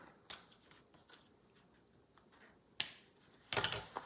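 Scissors cut ribbon for making a bow on a bow maker, with a few quiet, sharp snips spaced apart in a silent room, the last one a slightly longer crisp cut.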